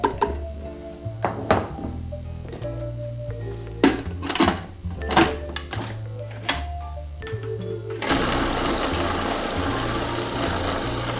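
A food processor blending dates into a thick date paste: a run of sharp clinks and clatters gives way after about eight seconds to a steady, loud motor whir.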